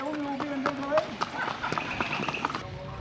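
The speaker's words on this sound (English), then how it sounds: "Beautiful animal horses." A horse walks on a rural road in Cuba, its hooves clip-clopping in a steady, close rhythm, with voices faintly underneath.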